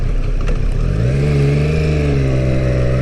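A 2019 Triumph Street Triple RS revs up loudly and close, its engine and intake noise rising in pitch after a second and holding a strong, climbing roar.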